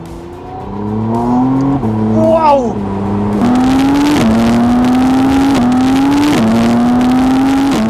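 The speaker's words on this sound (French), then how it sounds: "outre le bruit du moteur qui revient, à pleine puissance" A McLaren Artura sports car engine revs hard and accelerates at full power through rising gear-change sweeps, loud and close, with a brief excited exclamation over it.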